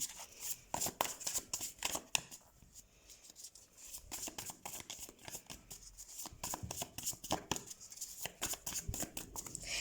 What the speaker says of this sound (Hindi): तो सबसे पहले हम कार्ड शफल कर लेते हैं टॉरस।